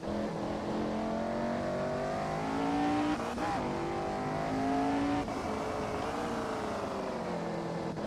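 A video game racing car engine drones loudly and continuously, its pitch climbing and dropping through repeated gear shifts as it speeds along.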